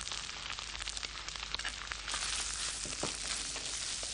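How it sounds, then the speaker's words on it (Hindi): Finely chopped tomatoes frying in a pan with ginger garlic paste, a faint, continuous crackling sizzle with occasional stirring scrapes. "इसके अंदर हम डालते हैं टमाटर, बारीक कटे हुए टमाटर"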